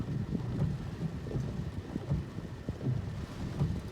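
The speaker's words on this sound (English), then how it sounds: "And there's the thunder." Thunder rumbles from a tropical storm squall rain band over Tampa Bay, Florida, a low, continuous roll with repeated deeper swells under steady wind and rain noise.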